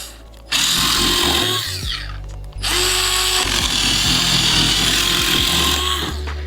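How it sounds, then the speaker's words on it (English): A Ryobi 4-volt USB lithium power cutter, model FVC51K, slices through the top flap of a cardboard box with a steady buzzing motor whine, interrupted briefly by a short pause before cutting resumes. "I'm just gonna try cutting the top flap with this and let's see if it works"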